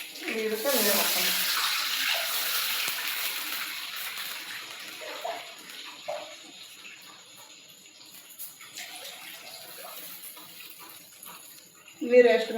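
Water pours into a cooking pot over oil already tempered with mustard seeds, curry leaves and garlic, a steady rushing gush that fades to softer trickles and a few clinks, with no talk heard.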